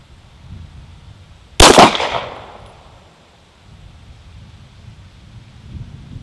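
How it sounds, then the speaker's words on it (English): A single sharp, loud 9mm pistol shot from a SIG Sauer P226 at an outdoor range, cracking with a brief echoing decay, then quiet wind noise. "here we go, 10 shots with the SIG Sauer P226"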